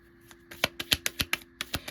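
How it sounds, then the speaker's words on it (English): Tarot cards being shuffled by hand: a quick run of about a dozen crisp, close slapping and flicking taps in an irregular rhythm, with no voice. "Let me shuffle."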